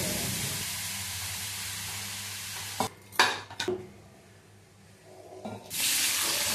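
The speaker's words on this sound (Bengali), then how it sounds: "আর এদিকে বসিয়ে দিলাম আলু ভাজা।" Potatoes fry in a pan with a steady broadband sizzle, broken midway by a few clattering stirs and scrapes before the hiss swells back up at the end.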